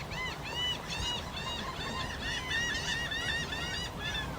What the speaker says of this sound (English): apparently several million seagulls. Laughing gulls, technically